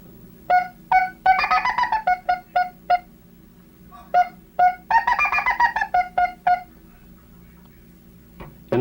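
A hunting call imitating a woodpecker produces two clusters of rapid, sharp, repeated notes, close and clear, with short gaps between bursts and no talking.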